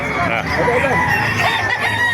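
A rooster crows loudly and close by, with clucking fowl and a murmur of voices around it, at a chicken market in Calumpit, Bulacan.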